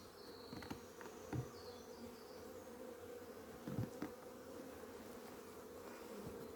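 Honey bees buzz around a beekeeper on a ranch, a soft, steady hum with individual bees droning past close by now and then, with no talk.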